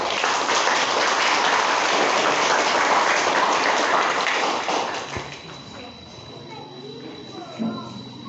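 A congregation applauds a newly married couple at a Catholic church wedding, with loud, dense clapping for about five seconds before it fades into a quieter room with voices and light movement.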